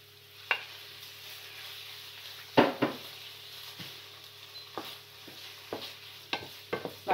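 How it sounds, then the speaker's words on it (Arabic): Chicken pieces added to a pan of frying mushrooms and onion and stirred, with a low steady sizzle beneath scattered close scrapes and taps of a utensil against the pan. "ودابا بما انه نزل لينا الشامبينيون والبصله، غادي نزيد الدجاج اللي قلت لكم"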